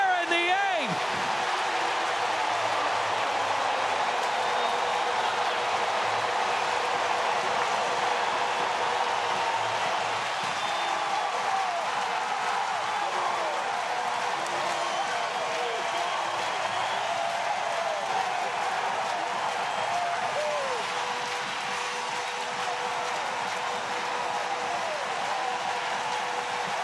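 Baseball stadium crowd in St. Louis roaring after Tyler O'Neill's eighth-inning two-run home run: a steady, dense wash of cheering and applause that holds for the whole stretch, with announcers talking over it.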